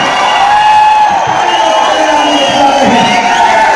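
A large crowd at a packed public gathering cheers and shouts in a loud, continuous roar, with whoops rising above a dense wash of noise and some voices mixed in throughout.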